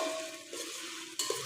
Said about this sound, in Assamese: এতিয়া মই ইয়াত পিঁয়াজ দি দিম। আৰু ভালদৰে ভাজি ল'ম।